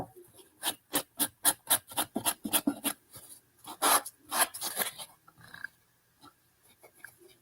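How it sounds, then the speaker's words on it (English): Sandpaper rasps back and forth along the edges of a decoupage piece in quick rhythmic strokes, close and crisp, then slows to a few scattered light rubs. "Sand the edges."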